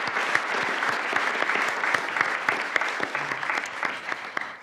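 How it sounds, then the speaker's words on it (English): Conference audience applause at the British Embassy in Paris, a steady dense patter of many hands clapping throughout, moderately loud and continuous, easing slightly toward the close. "round of applause to Paris"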